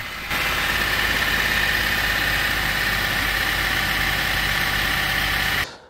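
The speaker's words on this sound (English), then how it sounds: "Here's a clip of the rough idle." A BMW E90 car engine with a rough idle runs steadily and loudly for several seconds, a constant uneven rumble with a faint whine, then cuts off.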